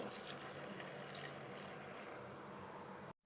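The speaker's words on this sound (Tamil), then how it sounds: "இப்போ இந்த மிக்சி ஜாரில் ஊற்றிக்கலாம்" Thickened, boiled and cooled milk pours steadily into a kitchen mixer jar, a continuous close liquid splashing and trickling for about three seconds before it stops abruptly, with no talking.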